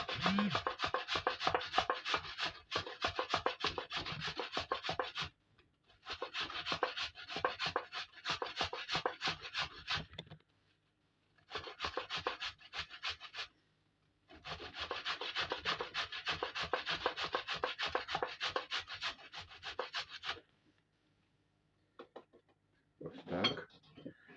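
Half a carrot rubbed on the medium side of a kitchen grater while making stewed cabbage, a fast rhythmic scraping in several long bursts separated by short pauses, close and clear, with no talking.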